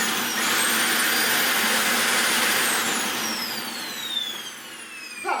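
A Dyson DC40 vacuum cleaner with its floorhead running gives a loud, steady motor roar topped by a high whine that slides downward in pitch, with a brief surge at the end and no voices.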